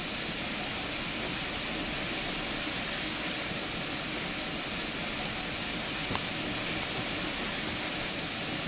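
Steam escapes from a Saint Class steam locomotive on the Severn Valley Railway as a loud, unbroken broadband hiss, close and steady throughout without pause.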